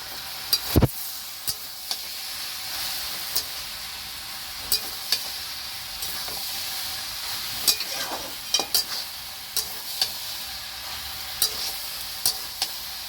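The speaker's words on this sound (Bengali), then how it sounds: "এবার একটু নেড়ে চেড়ে নিলাম, আর একটু ভেজে নেব।" Greens fry in a pan with a low, steady sizzle, broken by scattered sharp clicks and scrapes from stirring at an uneven pace.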